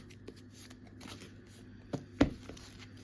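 Yu-Gi-Oh trading cards are shuffled quietly with soft riffling and shuffling, then a couple of sharper snaps of the deck near the end.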